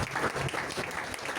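A short burst of dense clapping from a crowd hailing the king, loud and continuous throughout the brief moment.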